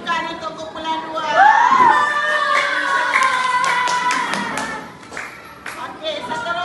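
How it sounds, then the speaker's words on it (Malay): A classroom of pupils claps for a group, with scattered hand claps and taps running under children's sing-song chatter and talking throughout. "Okey, bagi tepukan untuk kumpulan 2."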